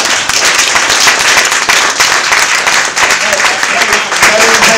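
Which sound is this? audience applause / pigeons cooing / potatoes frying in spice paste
audience applause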